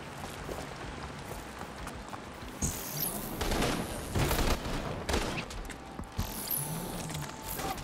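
A big gun firing in inFamous Second Son, heard as a series of loud, irregular blasts and bursts spread over several seconds amid clattering mechanical noise, with no voices.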